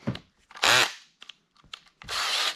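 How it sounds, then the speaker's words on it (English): Power drill boring a pilot hole during an ATV repair, two loud bursts of whirring a second or so apart with quieter clicks and handling noises between, no talking. "Now I have a pilot hole."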